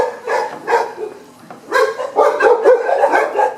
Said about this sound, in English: Those are my dogs barking at a taxi passing by.